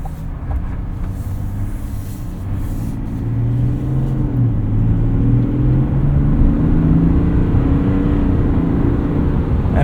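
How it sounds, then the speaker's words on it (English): A 2026 GMC Sierra 1500 Denali with the Duramax diesel engine drives along, its low engine drone steadily rising in pitch and loudness as the truck accelerates, with no talking. "And it makes cool diesel noises."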